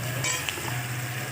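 Food frying in a pan with salt and turmeric powder being added, a steady soft sizzle with faint stirring scrapes running throughout, close and fairly quiet, no voices.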